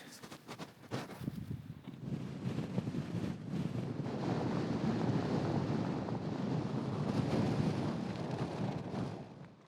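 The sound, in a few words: strong gusting wind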